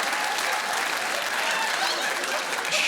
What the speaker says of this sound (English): huge reaction from the crowd here.